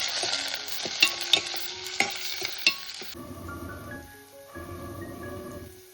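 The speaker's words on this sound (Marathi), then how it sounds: "आपण आता कांदा टाकून घेतो कांदा जरा परतून घेते" Onion sautés in a pan for a Konkan-style mandeli fish curry, with bright crackling sizzle and several sharp spatula stirs and taps up close, then a quieter bubbling simmer in the second half.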